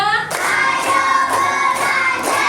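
A classroom of students claps together in a steady counted rhythm, loud sharp hand claps landing in regular beats roughly every half second over a continuous background.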